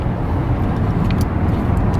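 Steady road and engine rumble heard from inside a moving car, a loud constant low roar with faint ticks and rattles, no one talking.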